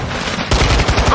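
Rapid automatic gunfire in Modern Warfare 2 raid gameplay, silence for half a second and then a loud burst of repeated shots with a steady rhythm, close and full, running to the end.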